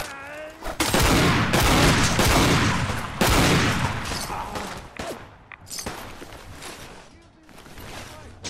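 Bursts of rapid gunfire from a weapon in Fallout 4, loud and close, with shots rattling in quick clusters for several seconds, then fading to scattered impacts and quieter pauses.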